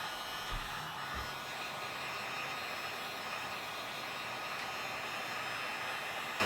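A ventilation blower runs on high inside a boat under restoration, giving a steady, loud broadband rush that holds unchanged throughout.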